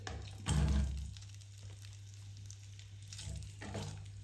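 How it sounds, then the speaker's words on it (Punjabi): Potatoes dropped into hot mustard oil in a kadai, a burst of sizzling as they hit the pan, then a steady softer fry with a second flare of sizzle near the end, close and clear with no talking. "ਤੇਲ ਗਰਮ ਹੋ ਗਿਆ ਹੁਣ ਇਸ ਵਿੱਚ ਆਪਾਂ ਆਲੂ ਪਾ ਦੇਵਾਂਗੇ"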